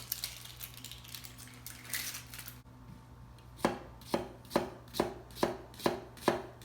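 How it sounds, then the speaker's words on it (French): A kitchen knife chopping a halved onion, heard as a steady series of about seven crisp, close knocks against a cutting board in even rhythm, after a stretch of soft handling noise over a low hum. "On va hacher l'oignon."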